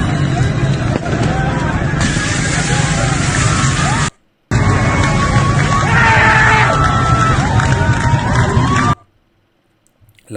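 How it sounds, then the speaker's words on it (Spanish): A crowd cheers and applauds while a giant billboard of Iran's leader burns. Loud, dense crowd noise with shouting and yelling runs throughout, breaks off briefly in a gap, then returns before cutting to silence. "La gente aplaudiendo y vitoreando."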